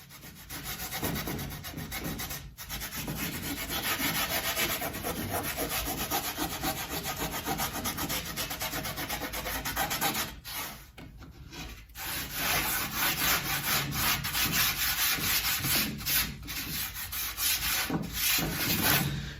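Steady, close rubbing and scraping as sawdust is rubbed into a glued wooden joint on a plant stand frame, in long strokes with a couple of brief pauses.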